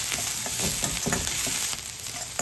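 Chopped green chili and coriander stems sauté in a pan for dry veg manchurian, making a dense, loud, continuous sizzle with stirring scrapes close up and no voices.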